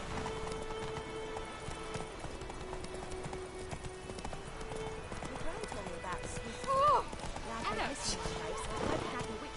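Roach the horse's hooves in Witcher 3 beat a steady clip-clop across the stretch beneath a voice and a background music bed, with a short louder burst near the end.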